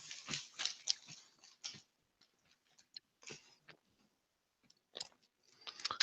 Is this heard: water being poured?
no